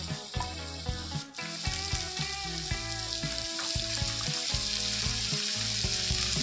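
Small onions, split green chillies and curry leaves fry together in a pan, producing a continuous loud sizzle with occasional stirring clatter throughout.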